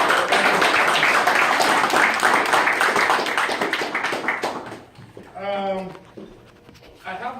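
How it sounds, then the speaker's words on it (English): An audience at a foundation gathering applauds in a dense, steady wash of clapping for several seconds, fading out as a voice begins to speak near the end. "let's give a round of applause to everybody for this great support"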